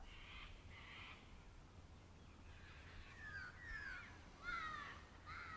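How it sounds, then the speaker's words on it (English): Loud, harsh calls ring out from birds in the trees, a few rasping squawks in quick succession over a quiet background with no talking. "I hear the sounds of cockatoos in the trees. They seem quite loud."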